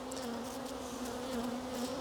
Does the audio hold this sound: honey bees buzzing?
yes